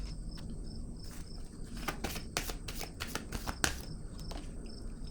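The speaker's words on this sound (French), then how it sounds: "Je vais piger une autre carte ici." Tarot cards being drawn and handled from a deck, a run of soft, quick papery slaps and shuffling flicks in the middle of the stretch over a steady faint hiss.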